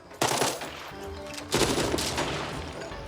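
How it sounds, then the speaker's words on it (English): Gunfire in the tactical video game Jagged Alliance 3: two loud bursts of rapid automatic fire, close and sharp, the second sustaining longer, with no voices over them. "These guns sound stellar."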